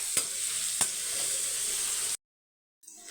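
Onions and curry leaves frying in a pan, a bright steady sizzle with two sharp stirring clicks, cutting off abruptly to silence before faintly resuming.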